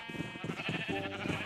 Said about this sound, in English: We've probably got like 30 sheep in here now by now,